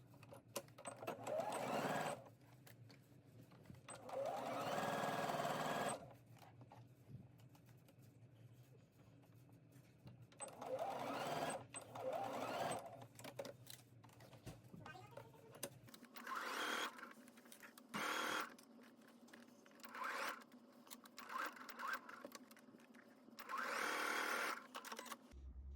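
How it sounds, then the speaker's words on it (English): Sewing machine stitching the side seams of a summer dress and pivoting around the pockets, loud whirring runs of several seconds each, separated by quiet pauses, with a few shorter bursts toward the end. "You're going to sew along those side seams and pivot around the pockets."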